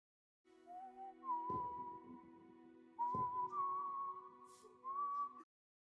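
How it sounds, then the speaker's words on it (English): A lone tonal whistle carries a simple melody in three sustained phrases, clear and fairly close, separated by brief pauses and soft thumps. "And there's the whistling."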